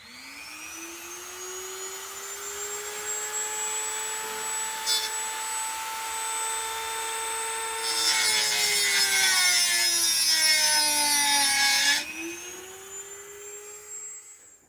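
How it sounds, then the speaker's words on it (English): A Dremel rotary tool spins with a steady high whine, then its cutting disc bites into a steel steering column bolt head for about four seconds, adding a harsh grinding hiss before the motor winds down. "I used a Dremel tool with a cutting disc to make a slot in the bolt head, like a flathead screw."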